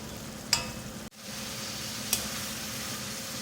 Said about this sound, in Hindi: दही डालने के बाद इसकी भुनाई करेंगे 2 से 3 मिनट